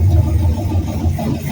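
A classic Ford Torino engine idling outdoors after ignition coil and plug wire repairs, a steady low rumbling drone, close and continuous.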